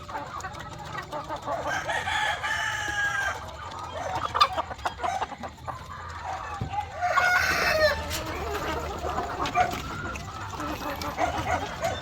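White heritage chickens cluck and chatter continuously on a farm while a rooster crows loudly partway through, the birds close and busy over a steady outdoor background.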